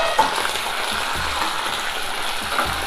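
Shallots sizzling in hot oil with chillies, urad dal, fenugreek and mustard seeds, a close, steady crackling fry with faint stirring scrapes and no talking.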